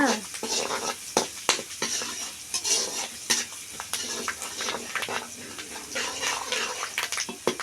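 Curry leaves frying in a pan while being stirred, a dense crackling sizzle broken by frequent sharp scrapes and clinks of the utensil, close and fairly loud the whole time.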